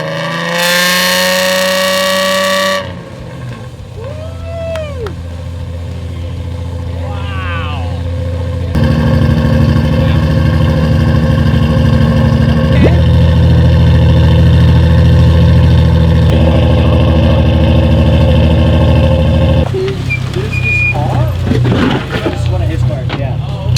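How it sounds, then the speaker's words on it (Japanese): A Nissan Skyline (Kenmeri-era) engine fitted with a Mizuno Works tubular header exhaust idles and revs loudly and up close, a steady deep rumble with rising revs midway, and a person speaks over it near the start. "水野ワークさんのタコ足のマフラーがついてます。 めちゃくちゃいい音しますね。"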